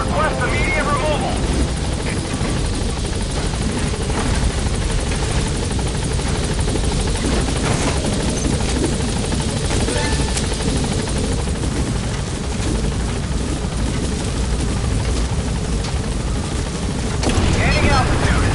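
A helicopter in Metal Gear Solid V: The Phantom Pain roars loudly and steadily throughout, its close rotor and engine noise running beneath intermittent radio-style voices.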